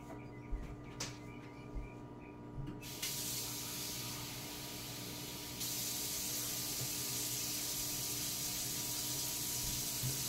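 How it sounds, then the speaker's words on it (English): Tap water runs into a bento lunch box container, first with short splashes and pauses, then as a steady hiss that grows brighter and louder and carries on to the end, with no talk. "So I gotta put water in that thing too."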